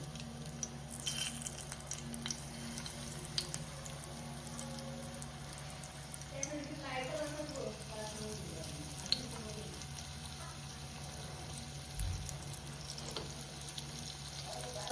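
Fish frying Malvani style with curry leaves in hot oil, a steady close sizzle and crackle with brief stirring and scraping, plus a faint running-water tap in the background.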